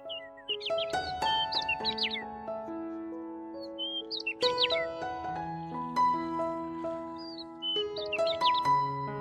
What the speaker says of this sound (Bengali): পাখির কোলাহলে ভরা এই রিসোর্টের পরিবেশটা পুরোপুরি ন্যাচারাল ফ্রেন্ডলি